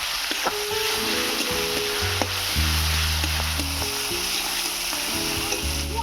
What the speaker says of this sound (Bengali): পেঁয়াজ রসুনটাকে লাল লাল করে ভেজে নেব